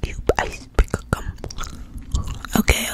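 Close, soft chewing of iceberg gum in a quiet ASMR setting, with irregular wet clicks and smacks spread through the moment and no talking.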